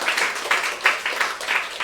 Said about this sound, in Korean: 우리 배우신 기념으로 박수 한번 하겠습니다